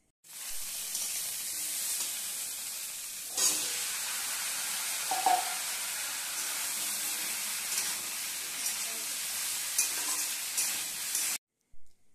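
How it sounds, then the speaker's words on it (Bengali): Drumstick (moringa) stalks being stirred in a frying pan while cooking a fish curry, a steady close sizzle and hiss with light scraping of the spoon throughout. "কষানোর পর সজনে ডাঁটাগুলো দিয়ে আরেকটু নাড়িয়ে নেব।"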